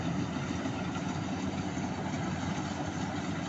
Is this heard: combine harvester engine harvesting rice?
yes